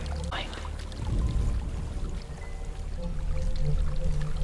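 Steady rushing water of a waterfall in the video game Hellblade: Senua's Sacrifice, a continuous broadband wash throughout with a brief swell and a voice speaking over it early on.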